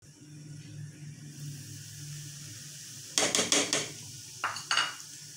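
Spoon stirring gram flour as it roasts in melted desi ghee in a pan, for besan panjiri: after a quiet stretch, a burst of scraping clinks, then two shorter scrapes, close and fairly loud.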